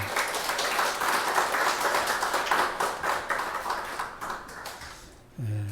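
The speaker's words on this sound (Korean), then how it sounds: "우리 하나님께 감사와 영광의 박수 올려드리겠습니다." A church congregation claps together in praise during a Sunday morning worship service, a dense, sustained wash of applause that thins and fades toward the end, followed by a brief low tone.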